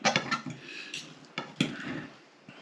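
Cutlery scrapes and taps against a plate while cutting into a crispy, cheesy hashbrown casserole, with a series of faint, close clinks and scratches coming at an irregular pace.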